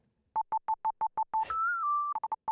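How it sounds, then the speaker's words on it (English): A steady pure electronic tone sustains for about half a second, framed by rapid repeated beeping tones before and after, with a brief noisy burst at the start. "Sine wave."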